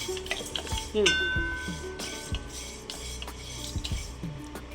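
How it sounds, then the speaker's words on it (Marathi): Black pepper and cloves dry roasting in a pan, heard as faint crackling with repeated scraping and stirring clinks of a utensil against the metal, close and intermittent. "ही काळी मिरी, लवंग याला मी भाजून घेते."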